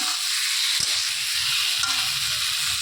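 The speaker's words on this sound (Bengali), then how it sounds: "তো চিনি দিয়েও বেশ ভালো করে নেড়ে চেড়ে নেব" A pan of Bengali ghonto shukto with added sugar sizzles steadily as it is stirred, with a continuous close frying hiss and soft scraping movements and no talking.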